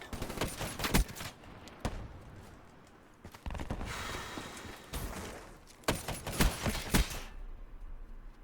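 Gunfire rings out in a shooter video game in several close, loud bursts of rapid shots separated by short quieter gaps, with no talking.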